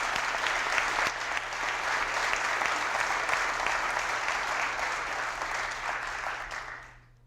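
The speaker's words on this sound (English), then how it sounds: "I think that deserves a round of applause as well" Steady, loud applause fills a hall during the 2020 Delaware State of the State Address, sustained for several seconds before tapering off sharply at the end.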